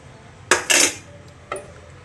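A spoon clinks and scrapes against a pot while custard milk is stirred until it thickens, giving two quick close metallic knocks followed by a single lighter tap, with no talking.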